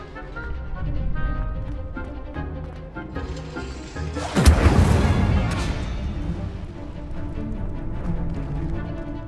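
Explosive fire spell cast in the video game Hogwarts Legacy, a single loud burst mid-clip with a crackling, rumbling tail that fades slowly over a bed of game music and effects.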